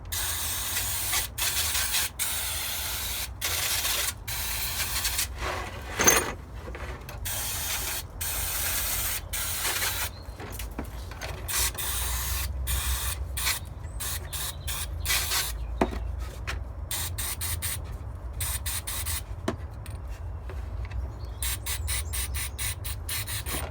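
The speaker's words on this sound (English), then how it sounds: "So get our brake cleaner." Brake cleaner hisses from an aerosol can onto a Forge 007/008 diverter valve in short, repeated spray bursts of varying length, close and fairly loud, with no talking.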